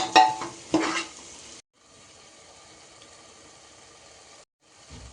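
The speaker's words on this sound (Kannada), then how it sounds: "ಇನ್ನಿದನ್ನೆಲ್ಲ ಚಂದ ಮಿಕ್ಸ್ ಮಾಡಿಕೊಂಡು ಚಂದ ಒಮ್ಮೆ ಫ್ರೈ ಮಾಡ್ಕೊಳ್ಳೋದು ಈರುಳ್ಳಿಯನ್ನೆಲ್ಲ" Onions sizzle and scrape as they are stir-fried with pav bhaji masala in a pan. Loud stirring clatter comes first, then a soft steady sizzle with a brief quiet gap.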